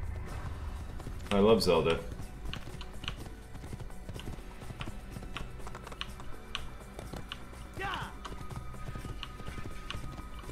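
Hooves clip-clop in a steady galloping rhythm from a horse in the video game Assassin's Creed, set in Damascus, sounding under a voice. A louder burst stands out near the start.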